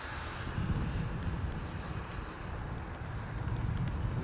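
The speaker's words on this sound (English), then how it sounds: "All right, gusty winds too." Gusty wind buffets an outdoor microphone beside the runways at Toronto Pearson Airport, a steady low roar with swelling gusts throughout and no voices.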